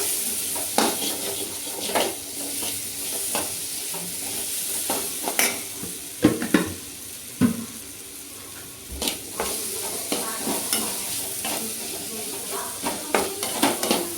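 Ginger and dried red chillies sautéing in oil in a pan for a mushroom curry, with a steady background sizzle broken by repeated spoon scrapes and clinks against the pan, close and fairly quiet.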